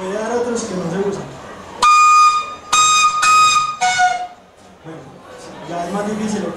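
A gaita larga, a Colombian duct flute, sounds a few sustained high harmonic tones, each clear and bright, between stretches of someone speaking.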